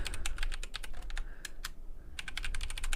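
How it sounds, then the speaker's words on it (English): A password typed on a computer keyboard, a quick, close run of crisp key clicks with a short pause in the middle, alone in a quiet room. "We're going to give Alice a password"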